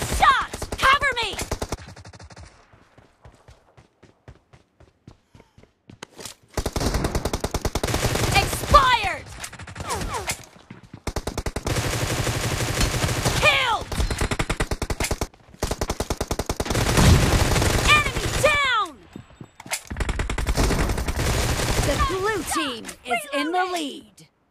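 Bursts of automatic gunfire from the battle-royale shooter PUBG, played on a Poco F1 phone, come in several loud sustained volleys separated by brief pauses, with voices talking between and over them.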